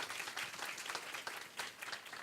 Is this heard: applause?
yes